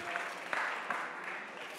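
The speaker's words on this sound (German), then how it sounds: "Einen großen Applaus für unseren letztjährigen Gewinner an Autofokus" A conference crowd at re:publica 2014 claps for last year's winner, a brief burst of fairly distant, soft applause that fades toward the end.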